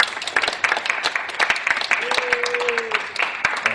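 Studio audience at a 2011 Texas homeschool quiz show applauds the contestants, dense steady clapping throughout with a brief whistle-like tone midway and murmuring voices underneath.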